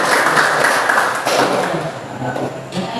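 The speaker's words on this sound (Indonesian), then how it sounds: "Oke, kita hargai tepuk tangan." Applause from a group at a positive-discipline teacher training session, steady broadband clapping that fades and thins toward the end, fairly close and loud.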